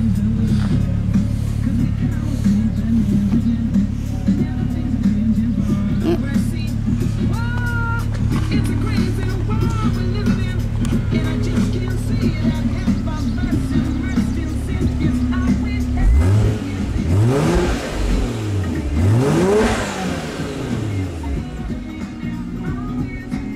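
A Toyota Soarer GT-T twin turbo engine idles steadily, then revs up twice in rising and falling sweeps near the end, recorded close by with some wind noise.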